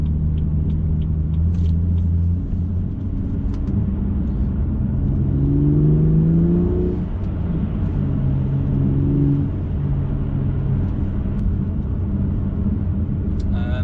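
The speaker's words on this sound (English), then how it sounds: "the noise from this M Performance exhaust is amazing" Deep engine rumble from a BMW M2's M Performance exhaust, a low steady drone with rising and falling tones as the engine revs, heard from inside.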